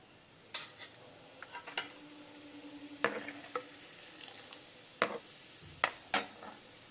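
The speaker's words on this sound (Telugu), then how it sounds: "ఇదే ఆయిల్లో 1 స్పూను ఆవాలు, ఒక 1/2 టీ స్పూన్ జీలకర్ర," Mustard seeds and cumin crackle in hot oil for an amla pickle tempering, with sparse pops and sputters over a faint steady sizzle and a few scraping stirs, fairly quiet and close.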